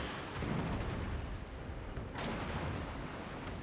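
Warship guns firing shells in a naval video game, heard as a continuous low rumbling barrage with a couple of heavier booms under dense, noisy battle ambience.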